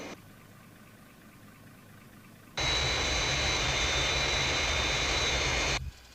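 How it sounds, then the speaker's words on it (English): A Fireflash jet airliner on its glide path toward the runway gives a loud, steady roar that starts abruptly, holds for about three seconds, then cuts off, over a low background hum. "Aircraft on glide path, 3 miles to threshold."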